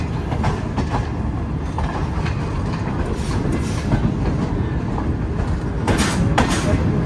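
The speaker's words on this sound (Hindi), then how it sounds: "5:45 बजे ट्रेन हमारी अप्रोच बना रही है दादू रेलवे स्टेशन पर" A safari train rolling toward Dadu railway station in Pakistan, a loud steady rumble of wheels and carriages with a low roar and faint rhythmic clacks throughout, heard up close.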